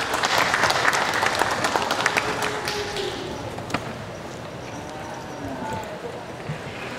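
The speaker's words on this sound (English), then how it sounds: "Let's give them all a big round of applause." Audience applause rings out at an Ontario summer show for Jersey heifers, a dense patter of clapping that starts fairly loud and thins to a lighter, scattered clapping over a few seconds in a large arena.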